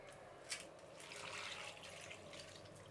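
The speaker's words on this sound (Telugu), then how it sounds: "ఇప్పుడు నీళ్ళు వేసుకొని కలుపుకుందాం." Water is poured into a bowl of semolina, flour, turmeric and salt for holige batter, a soft steady trickle lasting a few seconds with a brief splash near the start.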